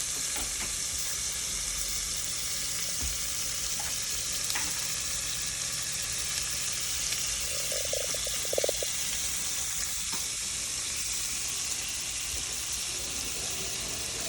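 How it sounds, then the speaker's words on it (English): Meat sauteing in a pot with celery and onion for chicken noodle soup gives a steady, moderate sizzle throughout, with a brief scraping stir midway. "and then I'll put the meat in. Let that saute up."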